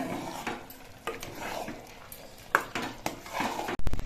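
A spoon stirs khichuri in a cooking pot after garam masala goes in, giving quiet, irregular metallic scrapes and clinks against the pot, with a couple of sharper knocks near the end.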